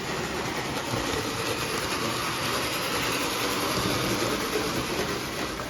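A steady, continuous rumble of a postwar Lionel model electric train running along track, with a constant hiss and no distinct pauses, loud and close throughout.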